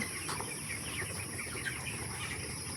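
Broiler chickens on a farm, most of them over two kilograms, cluck faintly and intermittently against a constant insect-like background hum, with no voices present.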